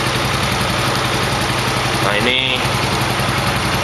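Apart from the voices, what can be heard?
Yamaha Mio motorcycle engine running, throttle revved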